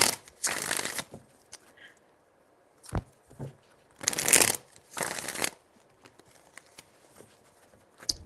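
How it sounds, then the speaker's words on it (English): Tarot cards shuffled in several quick riffling bursts separated by short pauses, close and fairly loud, with no talking. "5 shuffles."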